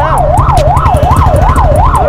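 An ambulance siren wails loud and close in traffic, its tone sweeping up and down in a rapid regular cycle over a low engine rumble.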